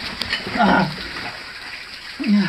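Waterfall inside the Algar dos Carvalhos cave, a constant broad rushing hiss of falling water echoing in the rock, with people talking over it in bursts.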